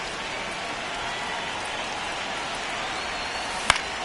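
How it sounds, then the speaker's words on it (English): Steady rain pours over a baseball field in MLB The Show 26, a dense even hiss that lasts throughout, with one brief sharp click near the end. "the field's not going to be able to hold up if the rain gets any worse than this"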